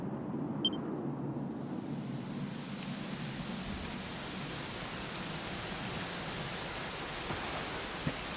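Steady, gentle rain falls in a Dragon Quest XI scene, a soft continuous hiss with an occasional faint drop, no voices over it.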